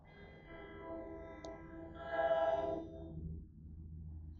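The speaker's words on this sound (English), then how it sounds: "comes the Metro North train" A Metro-North train pulls into Kingsland station, its horn sounding in a sustained tonal blast over a low rail rumble, moderately close and with no talking.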